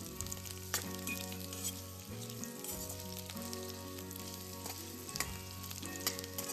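Drumstick pods sauté in a pan with a continuous frying hiss and a few stirring clacks, with steady background music.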